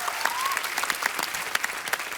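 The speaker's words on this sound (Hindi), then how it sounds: "जोरदार तालियां।" Studio audience of a comedy talk show applauds steadily, a dense even wash of clapping with a few sharper claps standing out, fairly quiet and with no talk.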